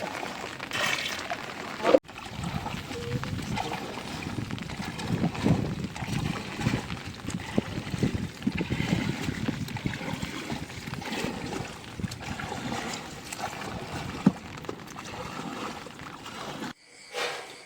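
Water swishes and trickles steadily as a small wooden fishing boat heads out to cast nets, with faint splashes and occasional knocks, fairly close and unbroken.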